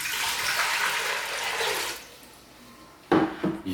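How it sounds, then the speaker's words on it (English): Two quarts of water pour steadily into a container for a maple bourbon turkey brine, a broad, even splashing rush that stops after about two seconds, followed by a short clatter of handling. "You start with just two quarts of water."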